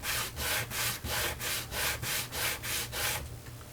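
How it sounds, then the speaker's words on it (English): Sandpaper rasps back and forth along a wooden edge, about nine even, rhythmic close strokes before slowing, with no voices. "I'm going to take a piece of sandpaper, and I'm just going to sand this edge down nice and flat."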